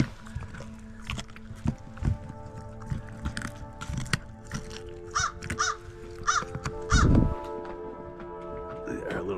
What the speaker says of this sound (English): Our little crow buddy up there.